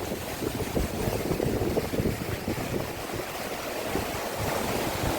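Strong wind gusts over rushing floodwater across farm fields in the aftermath of Cyclone Montha, a steady, loud roar of buffeting wind noise with churning water beneath, no voices.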